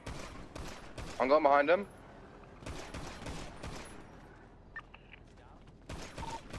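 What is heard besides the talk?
gunfire in the video game GTA (NoPixel)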